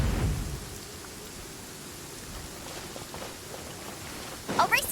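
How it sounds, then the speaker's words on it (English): Rain patters steadily in the video game Genshin Impact while thunder rumbles in low bursts at the start and again near the end, with no voices. "Oh no, it's raining!"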